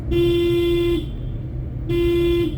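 Two loud, sustained car horn honks, the first lasting about a second, then a pause and a second blast, over low road rumble.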